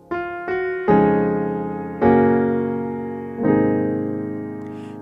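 Gospel piano resolve, a short chord turnaround leading back to the start of the song; four clear chord strikes, the last three ringing and decaying, played alone with no talk.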